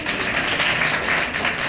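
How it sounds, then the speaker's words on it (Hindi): Students at a Republic Day event at a defence academy applaud together, producing a steady, dense wash of clapping that holds at an even level throughout. "ताली बजाओ सबको"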